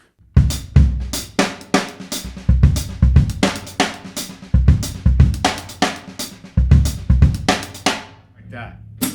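A busy drum groove with every note filled in, sharp kicks, snares and hi-hats packed in a dense, punchy rhythm, played close and loud with no talking.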